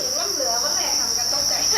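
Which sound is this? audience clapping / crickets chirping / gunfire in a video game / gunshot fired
crickets chirping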